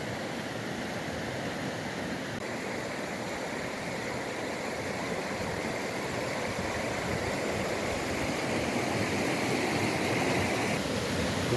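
A mountain waterfall and river near Alaxançallı village rush in a steady, dense roar of falling water, close and continuous, with no voices.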